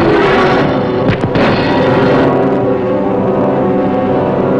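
A submarine torpedo launch, a loud close burst of rushing, booming noise with a couple of sharp thuds near the start, followed by a sustained heavy rumble.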